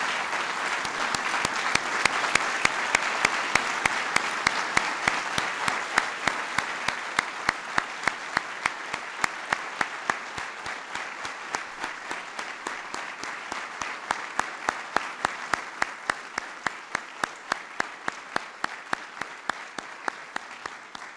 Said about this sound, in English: Let's give one last big round of applause to the recipients of the Medal of Valor.